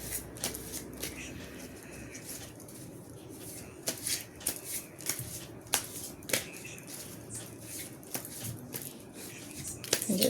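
Tarot cards are shuffled by hand in a quick, irregular run of soft riffling and snapping bursts, close up and fairly quiet, with no talking during the shuffle.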